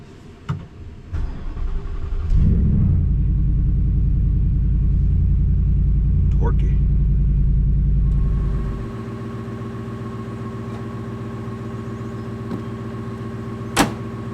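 A truck engine cranks and catches in cold weather, then settles into a loud, steady low idle for several seconds before cutting back to a quieter hum, with a couple of sharp knocks near the end.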